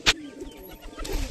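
A golden pigeon chick gives a soft, low coo, a short throaty murmur that lasts about a second, framed by brief rustling clicks at the start and end.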